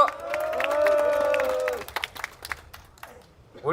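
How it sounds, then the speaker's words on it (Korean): A crowd applauds and cheers at an outdoor memorial cultural rally at Sangnoksu Station. A sustained tonal sound opens the clip, then scattered claps and shouts follow, moderately loud and thinning out. "네, 동지들 다시 한번 뜨거운 박수 함성 부탁드립니다."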